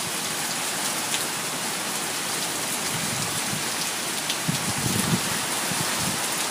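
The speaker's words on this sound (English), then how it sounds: "The rain's coming in." Steady heavy rain hisses down during a summer thunderstorm in Steelton, Pennsylvania, a dense continuous wash with scattered nearby drips and patters, no voices.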